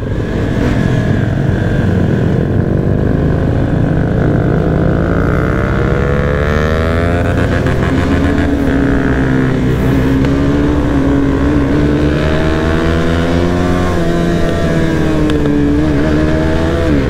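A BMW motorcycle engine running up close, a loud continuous drone that swells and dips as it is revved, with no talk over it.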